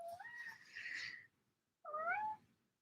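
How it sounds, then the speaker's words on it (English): Two distinct cat meows, close and clear, the first longer and rising, the second shorter after a brief pause, in an otherwise quiet room. "That's my cat meowing."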